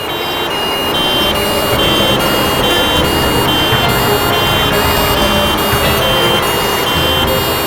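Loud, continuous wailing of three ambulance sirens overlapping in a repeating pattern over heavy traffic noise.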